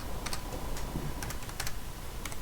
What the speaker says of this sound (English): So I'll just type in, for example